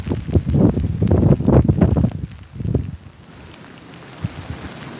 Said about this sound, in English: See how that looks like it's raining hard? That's ice. That is not rain, that is not snow, that is ice.